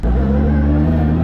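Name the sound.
1000HP 3.3L 2JZ S15 drift car engine with nitrous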